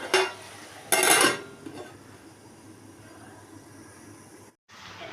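A lid goes onto a pan of simmering snake gourd and potato curry with poppy seed paste, giving two short, sharp metallic clatters close by, followed by a quiet cooking hiss with no talking.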